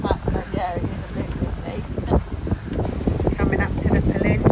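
Strong wind buffets the microphone on a windy coastal stretch approaching a peninsula, a loud roaring rumble with gusty surges, while people talk over it.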